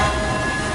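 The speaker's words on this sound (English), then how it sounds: "Oh yes, the train jump scares." A train rumbles past in the sci-fi survival horror game Alien: Isolation, a loud, steady roar of rail noise and humming machinery that fills the whole moment without any talking.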